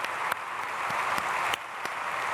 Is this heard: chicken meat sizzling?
no